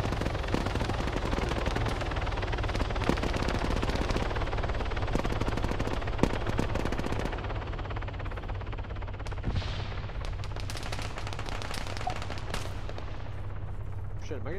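Arma 3 battlefield gunfire crackles almost nonstop, dense overlapping automatic bursts and single shots at varying distances, with heavier thuds mixed in, sustained and loud throughout.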